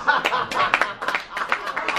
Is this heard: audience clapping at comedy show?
yes